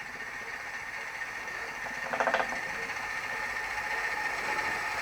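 A small Chinese vertical flywheel Stirling engine runs with a soft, steady mechanical whir and a faint rapid ticking, plus a brief louder rattling burst partway through.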